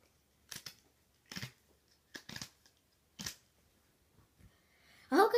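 Glitter-band bracelet torn off by hand, several short rough ripping bursts spaced apart, close up, followed by a louder rustle at the end.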